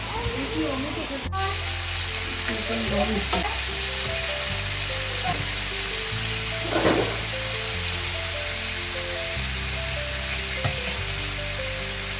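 Chicken with carrots and broccoli coated in marinade and a little white oil frying in a pan, a steady sizzle throughout with occasional stirring clatter and a faint background hum, no talk.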